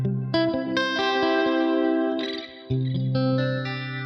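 Electric guitar through a Quad Cortex modeler and practice amp with a digital stereo delay, played as sustained chords and single notes whose repeats ring and echo behind them, loud and close with no talking.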